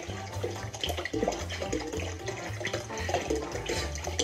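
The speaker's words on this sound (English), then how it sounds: "Putting in our water." Water pouring steadily into a ginger beer mixture of dissolved sugar and ginger, a continuous splashing gush at close range with no talk over it.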